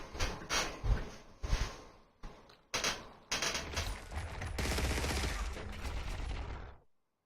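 Enemy gunfire in the frontline shooter Eximius: a few sharp separate shots, then a sustained rattling burst of rapid fire that cuts off abruptly at the end.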